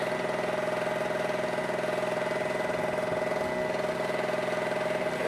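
A warmed-up Harbor Freight TailGator portable generator engine runs steadily, a continuous close, even hum with a fixed droning pitch and a faint rhythmic pulse throughout, with no voices.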